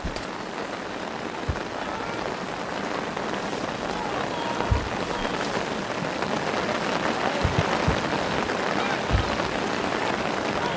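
Steady rain falls on an outdoor under-15 boys' soccer match in Quebec, a constant dense hiss throughout with occasional thumps and faint crowd voices beneath.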